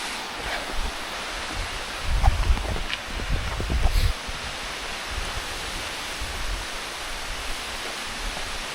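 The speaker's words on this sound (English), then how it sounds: "Largest free-falling waterfall in all of South Carolina." Rainbow Falls, the largest free-falling waterfall in South Carolina, roars as a steady broadband rush of falling water, with a few louder low thumps early on, like wind buffeting the microphone, and no speech.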